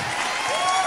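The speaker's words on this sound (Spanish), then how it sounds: "Se siente ese aplauso." A brief wash of audience applause at a live show built on 80s and 90s cartoon, video game and film intros, sounding dense and steady for under a second.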